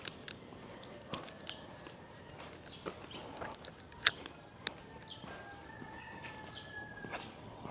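Roosters crow faintly in the distance outdoors on a morning walk in a residential neighborhood in Quezon City, Philippines, with scattered footsteps and small clicks nearby.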